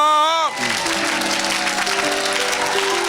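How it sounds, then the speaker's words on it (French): A church congregation breaks into sustained, dense applause during a lively worship service, loud and continuous after a brief sung or shouted voice at the start. "Oh, si tu es rempli de l'Esprit de Dieu, acclame."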